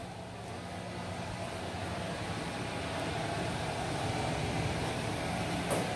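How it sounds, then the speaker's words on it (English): Air conditioning blowing through floor vents in a bathroom right behind the furnace, a steady faint whooshing hum that swells slightly over a few seconds. "because I know you can hear the AC"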